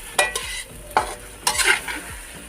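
A child mixing food in a bowl during chicken buffalo cooking, with repeated scraping and stirring strokes at an uneven rhythm, close and clear.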